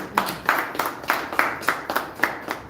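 Rhythmic hand claps, roughly evenly spaced and fairly close, like a small group clapping in unison.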